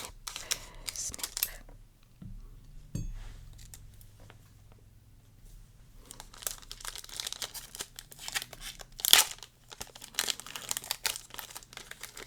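Close snips and crinkles of scissors cutting open a foil Riftbound trading card pack wrapper, quick crackly bursts separated by quiet pauses, with a sharper crinkle near the end.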